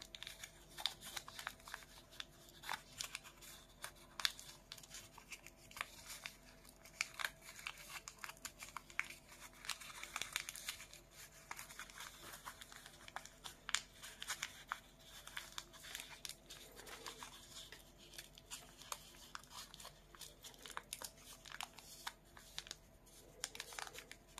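Paper is folded into an origami rabbit with an inside reverse fold, giving faint, close, intermittent crinkles and soft rustles that continue throughout with no speech.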